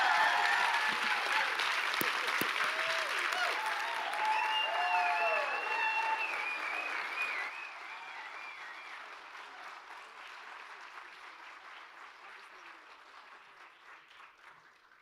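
Audience applause fills a hall after a reading at a literary event about Palestine and Minneapolis, loud and dense at first, then dropping and thinning into a softer, fading patter of clapping.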